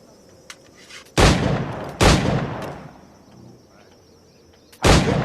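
Musket shots in the pirate-era game Assassin's Creed 4 ring out as three loud, sharp blasts, two close together near the start and one at the end, each with a booming tail over quiet ambient background.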